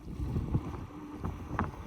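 A small fishing boat sits on open water: a low, quiet rumble of water and wind, with faint knocks and splashes against the hull and no voices.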